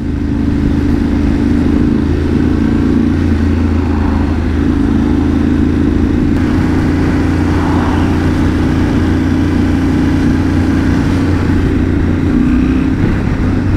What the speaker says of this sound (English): even with the stock pipe, I, I like this. It has this deep grumble.